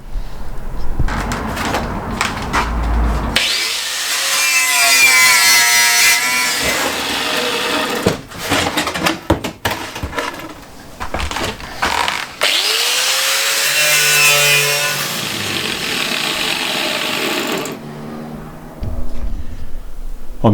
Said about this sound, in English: section by section, side by side with the wire buff, just cleaning off all of the heavy rusting and the paint